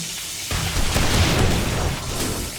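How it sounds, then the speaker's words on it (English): A deep, rumbling blast goes off during a zombie horde night in the video game 7 Days to Die, breaking in suddenly and swelling into a broad roar that fades slowly over about two seconds. "That was a massive explosion just now."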